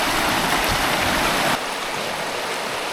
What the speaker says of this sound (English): Got a bit of a water crossing today.